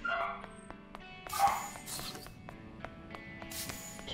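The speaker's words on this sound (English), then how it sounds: "my dog's freaking out about something" A pet dog barks in short, fairly faint bursts several times in the background of an indoor room, mixed with game music.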